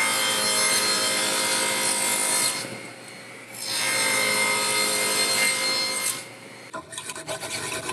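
Hand saw cutting the corners off a wooden block, steady rasping back-and-forth strokes close by, pausing briefly before resuming, then a few rougher scrapes at the end.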